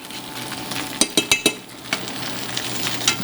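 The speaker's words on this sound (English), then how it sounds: "Stir in the mustard." A utensil scrapes and clinks against a pan while mustard is stirred into a sizzling Dijon sauce for turkey cutlets, with a quick burst of four sharp taps followed by softer scraping.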